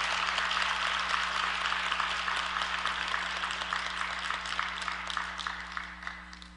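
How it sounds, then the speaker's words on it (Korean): Church congregation applauding in thanks, a steady wash of many hands clapping that slowly thins and fades over several seconds, with a low steady hum beneath. "우리가 하나님께 감사의 박수를 한번 올렸으면 좋겠습니다"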